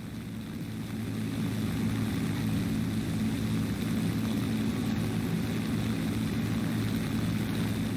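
Messerschmitt Bf 109 K-4 piston engines drone in a video game dogfight, a steady, loud, low propeller roar that holds constant throughout with no voices.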